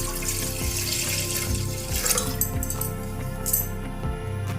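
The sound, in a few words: glass of water poured into a hot pressure cooker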